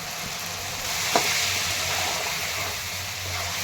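Tomato chutney with salt sautéing in a pan, a steady broadband sizzle with one brief utensil tap early on, no talking.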